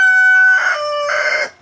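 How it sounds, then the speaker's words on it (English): A rooster crows one full cock-a-doodle-doo close by, loud and alone, with a long held first note and a rising, wavering finish that trails off. "Get out of here, stupid rooster."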